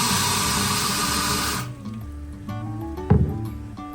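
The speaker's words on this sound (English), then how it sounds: "We're going to just rinse these off at the base here in our wash basin." Water splashes steadily as chrysanthemum cuttings are rinsed at the base in a wash basin, a dense running wash that stops abruptly partway through, leaving a quiet room with a single brief clunk near the end.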